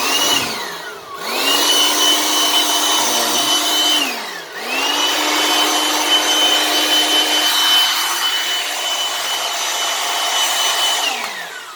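A Deniz air blower machine whirs loudly after being switched on, a steady high motor whine that dips briefly twice as it spins down and back up, running close and alone.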